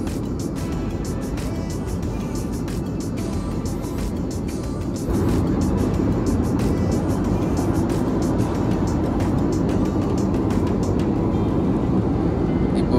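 Steady broadband cabin roar of an airliner in flight during lockdown-era travel, a constant dense rumble and hiss that swells slightly partway through and runs unbroken throughout.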